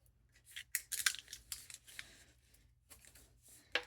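Vellum paper is folded and creased into a library pocket, with quiet, close crinkles, sharp rustles and crisp pressing snaps in irregular bursts, alone without talk.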